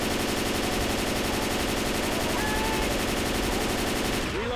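Sustained rapid automatic gunfire from Left 4 Dead 2 roars loud and continuous for a few seconds before cutting off.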